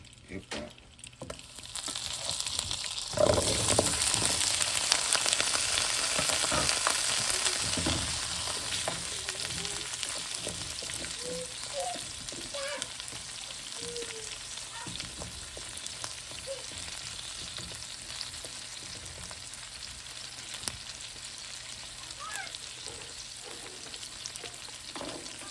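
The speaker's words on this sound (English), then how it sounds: "I have a 1/2 stick of unsalted butter and 1/3 cup of vegetable oil" Half a stick of unsalted butter and vegetable oil sizzling in a pan before cooking steak, a loud, steady hiss that slowly eases over the length with scattered small pops and clicks.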